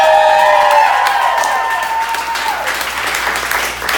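Sustained applause from a comedy club audience at a headliner stand-up show, dense and steady, with light cheering mixed in.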